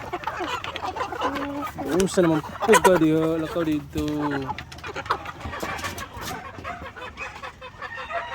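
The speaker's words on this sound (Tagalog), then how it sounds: "Ito naman yung manok natin dito sa free range." Free-range hens, Rhode Island Red crossed with White Leghorn, cluck and squawk close by in a short, agitated burst, with someone talking over and after the calls.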